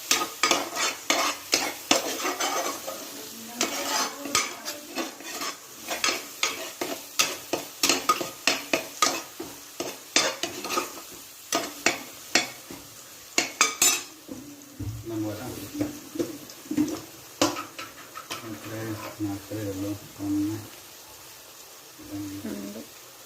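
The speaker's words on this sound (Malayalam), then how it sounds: "ഇതിന്റെ പച്ചമണം പോകുന്ന വരെ വഴറ്റിക്കൊണ്ടിരിക്കണം" Stirring and sautéing in a frying pan while cooking a home-style roast, with a spoon scraping and clinking rhythmically against the pan over a steady sizzle, close and busy throughout.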